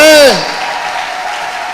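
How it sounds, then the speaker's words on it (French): A church congregation at a Sunday service breaks into applause, a broad steady wash of clapping that starts right after a brief sung or called-out voice and continues evenly to the end. "Est-ce que tu peux acclamer le Seigneur à ce niveau?"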